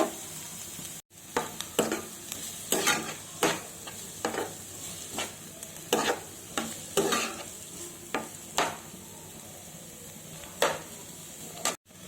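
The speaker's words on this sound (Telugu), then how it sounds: "కొంచెం గోల్డ్ కలర్ వచ్చేంత వరకు వేయించుకుందాం." Chopped onions and green chilies frying in oil in a pan for a soya chunk and drumstick curry, a steady close sizzle broken by repeated scraping stirs with a spoon at an uneven rhythm, with no talking.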